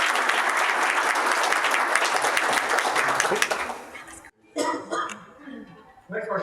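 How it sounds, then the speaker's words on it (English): Audience applause after a kung fu demonstration at a Diversity Day event: loud, dense clapping for about four seconds that fades out, followed by someone speaking. "Let's give a round of applause."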